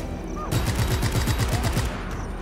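Gunfire in the open-world action game Just Cause 3 during a base battle, a fast burst of automatic shots over steady background game sound and music, loud and close.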